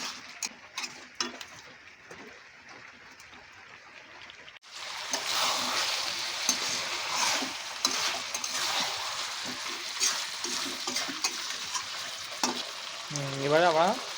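Chicken and potato chunks fry in a thick curry masala in a restaurant-style preparation. A few scattered clinks come first, then a loud, steady sizzle sets in with scraping stir strokes and an occasional sharp clatter, and there is no talk.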